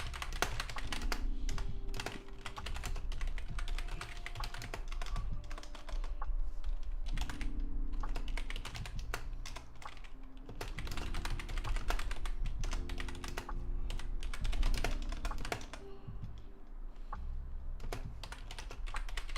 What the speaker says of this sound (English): I like how authentic it feels because your typing sounds like a typewriter.